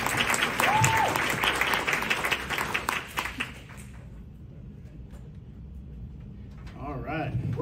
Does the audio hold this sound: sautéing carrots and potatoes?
no